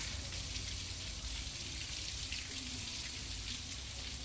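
Rain falls steadily with a dense hiss of drops spattering on surfaces, constant and moderately faint throughout.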